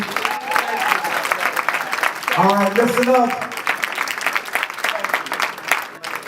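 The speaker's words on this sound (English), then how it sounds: "give another round of applause for Dr. Sebi" An audience at a Dr. Sebi lecture in Philadelphia claps steadily throughout, with a voice speaking over the applause partway through.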